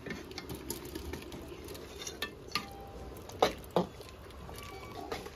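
Fried vegetables are tipped into a pot of cooking green chili and ginger paste and stirred. Quiet sizzling runs under scattered scrapes and a few sharp clinks of the utensil against the pot.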